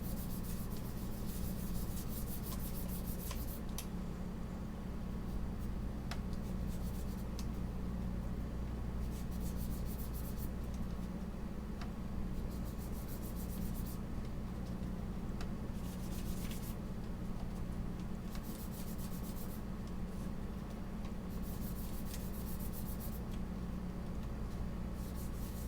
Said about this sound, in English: I'm going to use my fingertip, and I'm going to rub.